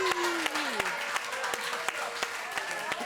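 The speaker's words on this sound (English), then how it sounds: "Why is that a clap?" Studio audience at a late-night talk show clapping steadily in a dense wash of hand claps, with a few sharper individual claps popping out and a voice speaking faintly over it.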